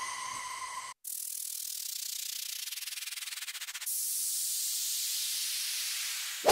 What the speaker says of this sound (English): And for the effects, I've got different downlifters, transition elements, and risers.